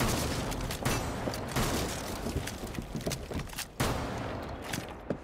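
Rapid gunfire blasting open a wall in Rainbow Six Siege on the Chalet map, a dense, loud, continuous burst of shots with a few brief pauses.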